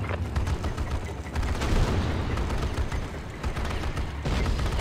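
Continuous bursts of automatic gunfire and explosions from the real-time strategy game Act of War: Direct Action, loud and dense with overlapping shots forming a steady battlefield din.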